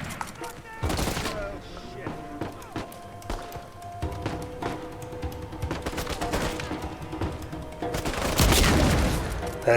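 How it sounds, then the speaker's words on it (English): Gunfire and heavy booms from the video game Uncharted, including an exploding barrel, rattle through in dense bursts, with louder blasts near the start and again toward the end. "I decided to blow up the barrel"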